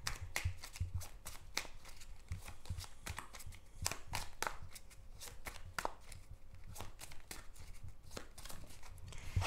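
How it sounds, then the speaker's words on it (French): Oracle cards are shuffled by hand for a tarot-style reading: a steady, dense run of rapid papery riffles and slaps, close and continuous for several seconds, with no voices. "Je vais continuer par un tirage de l'oracle Béline"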